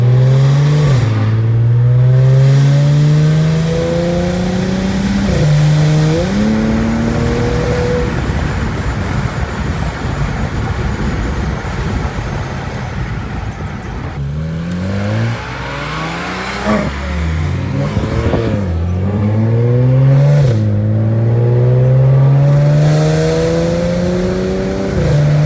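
A Porsche 911 GT3 Touring engine revs hard through repeated rising gear pulls, loud and close, dropping briefly between shifts before climbing again.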